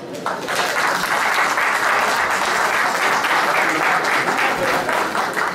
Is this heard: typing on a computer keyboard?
no